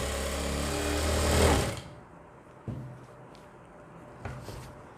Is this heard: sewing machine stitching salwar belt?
yes